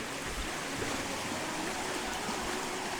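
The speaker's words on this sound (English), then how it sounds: "the river's up high, so the lakes must be nice and flowy" A high river rushes steadily at Glendalough in Wicklow, Ireland, a broad continuous roar of flowing water with no breaks and no voices.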